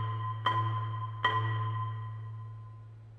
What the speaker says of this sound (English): it's a much more resonant sound when the bar is able to ring without anything underneath the resonator.